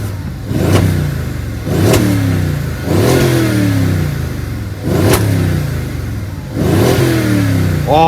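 A V8 in a 2015 Mercedes-AMG GLE63 coupe blips repeatedly up to its rev limiter, giving five loud, close rising roars, each bouncing off the limiter before the engine drops back to idle, with no talking.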